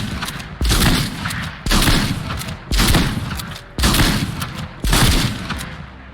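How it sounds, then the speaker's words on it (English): A lever action shotgun in Fortnite fires five loud booming blasts in steady succession, each shot roughly a second apart with a brief echoing tail between them. "I'm going to stand right here and I'm going to shoot as fast as I can with the lever action shotgun."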